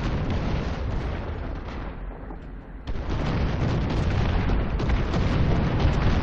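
Tank cannon fire in War Thunder ground combat: heavy booming blasts and rumbling battle noise that swell loud, dip briefly, then surge back up and stay dense.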